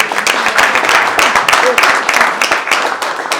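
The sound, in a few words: audience applause at mayoral luncheon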